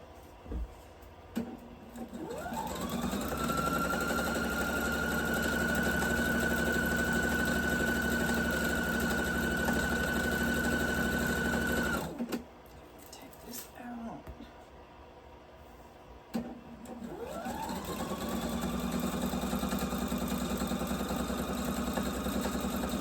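A sewing machine stitches quilt string blocks at a short stitch length, running in a steady, close, continuous whir that stops briefly midway and then starts up again.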